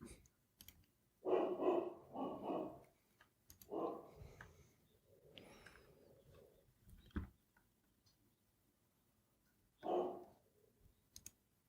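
A dog barks outdoors at a distance, several short bursts in two clusters with a pause between, faint and slightly muffled as if heard from inside, with scattered clicks around them.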